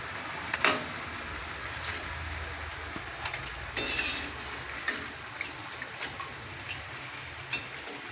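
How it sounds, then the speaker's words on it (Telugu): Chekka garelu, flat rice fritters, frying in oil over a low flame, giving a soft, steady sizzle with occasional light stirring clicks and brief spatters. "ఫస్ట్ ఆయిల్లో పెట్టుకొని సిమ్లో పెట్టుకొని కాల్చుకోవాలండి"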